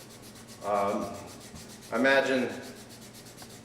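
Balsa wood is sanded into a fender for a pinewood derby car, heard as two bursts of rough rubbing strokes separated by a pause, with a brief word spoken near the start.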